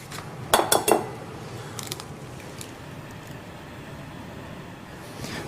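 Eggs separated into a bowl for Italian meringue, with a quick cluster of clinks and taps of shell or utensil against the bowl near the start and a few lighter taps later, over a steady kitchen background hum.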